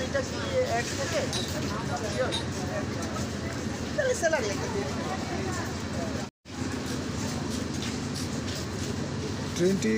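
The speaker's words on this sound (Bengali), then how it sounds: "এই ইন্টারসিটি আন্তর্নগর ট্রেনটি" An intercity passenger train rumbles steadily along with a constant roar and faint rattling, while people talk over it.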